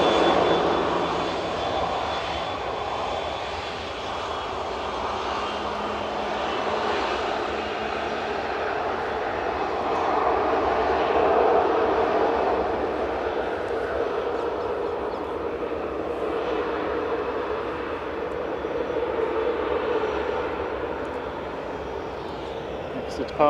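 Airliner jet engines roar steadily at Manchester Airport as an A380 sits pushed back and ready, a continuous broad rumble and whine at moderate distance throughout, with a voice talking over it.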